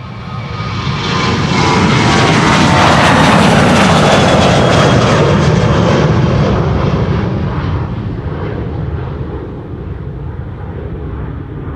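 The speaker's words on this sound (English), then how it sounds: "American Airlines to Philadelphia." An American Airlines airliner departs Amsterdam Schiphol's Polderbaan runway for Philadelphia on a windy day, its loud, close jet roar building quickly, holding at full power, then receding as it climbs away.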